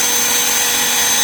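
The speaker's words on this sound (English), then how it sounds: "I will drill right in the corner until the tip of the bit right here disappears." A power drill bores into wood through a jig during a white oak kitchen remodel, giving a steady, loud, unbroken whir that fills the short stretch without any talking.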